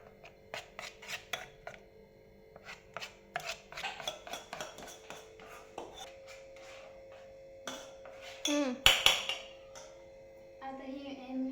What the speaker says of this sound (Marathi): सोडा टाकणार आहे देव्यानी आता थोडासा. मिक्स करून घ्यायचं आहे.